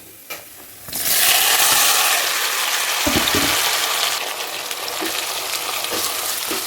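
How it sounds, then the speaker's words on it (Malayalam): Tomato, onion and green chilli hit a hot frying pan and sizzle loudly, a sudden burst of frying that settles into a steady hiss with a few stirring clinks, no voices. "പിഞ്ചി വെള്ളത്തുള്ളി ഇട്ടു അടുത്തത് തക്കാളി സവോള പച്ചമുളകാണ് കേട്ടോ"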